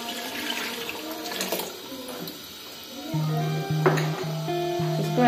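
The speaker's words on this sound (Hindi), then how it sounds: "अब हमारे पास जो लस्सी है जिसमें हमने बेसन को मिक्स कर रखा था वो ऐड करेंगे।" Lassi mixed with gram flour is poured into a pan for kadhi pakora, a watery splashing pour that swells partway through, overlapping with a voice speaking and a steady tonal hum.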